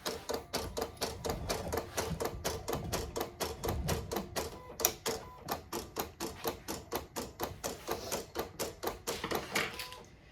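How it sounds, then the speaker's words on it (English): An electronic vinyl cutting machine slices a sheet of Dollar Tree vinyl, giving a fast, steady train of sharp ticking clicks with a light mechanical whir underneath, close and continuous for the whole stretch. "So I'm going to send it, and then it's going to start cutting."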